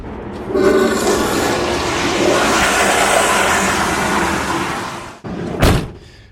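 RV black water tank emptying at a dump station: a steady, loud gushing rush lasting about five seconds, then a sudden stop and one brief thud. No one speaks.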